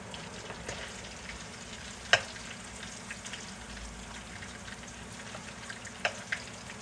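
Croquettes fry in a pan with a steady soft sizzle and crackle, a few sharp pops standing out above it, close and moderate in level, no talking.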